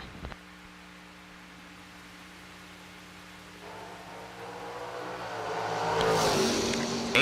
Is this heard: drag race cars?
yes